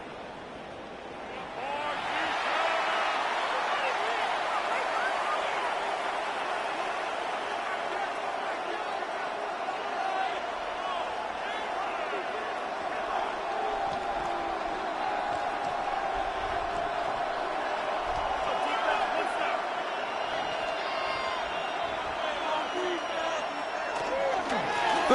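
A stadium crowd at an LA Rams vs Chicago Bears football game rises into a broad, steady roar that holds throughout, with scattered thumps beneath and a commentator talking over the noise.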